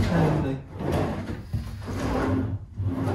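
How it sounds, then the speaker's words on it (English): A kitchen drawer in a new-build house slides open and shut, with a few close wooden rumbles and soft thuds. "We've got the drawers."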